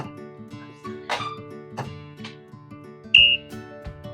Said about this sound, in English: That whistle sound works.